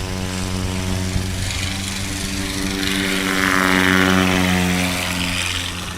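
Propeller airplane powering through its takeoff run at a STOL competition in Hartford, Wisconsin, a steady, loud droning engine with harmonic buzz that swells slightly as it climbs away, no talk.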